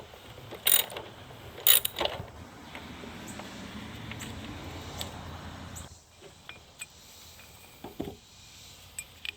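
A ratchet wrench clicks rapidly in a steady rhythm while loosening the 12 mm bolt on a battery clamp of a 2014-2016 Kia Soul, close up, then stops and a few lighter taps and clinks follow.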